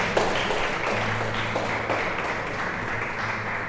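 Church congregation clapping together in a steady, continuous round of applause, moderately loud and diffuse, with no voices standing out.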